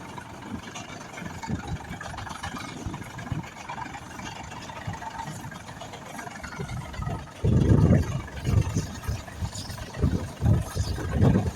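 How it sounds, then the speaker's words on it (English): An antique six-cylinder tractor engine idles at a steam threshers reunion, giving a steady, smooth mid-range rumble at moderate distance that swells louder for a few seconds near the end amid outdoor show background noise. "Man, that 6-cylinder purrs real nice."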